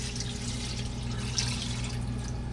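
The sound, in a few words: water poured over beef bones and oxtail in a pot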